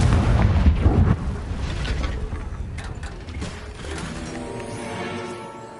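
A fiery blast spell from a video game sounds as a loud, rumbling explosion burst at the start, then a long crackling, debris-like tail that slowly fades.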